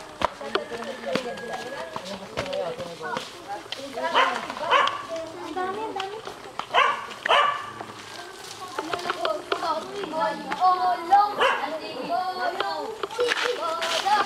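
Dogs bark and yip intermittently amid steady outdoor background noise on a hike to Tubas Falls, with people talking over them throughout.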